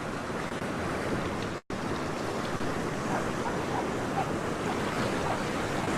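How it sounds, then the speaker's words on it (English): Ocean surf rushing over rocks at Currumbin Beach, Queensland, a continuous loud wash of breaking water with wind noise, close to the microphone and uninterrupted except for one brief dropout. "I love as all that water just sort of rushes over the rocks."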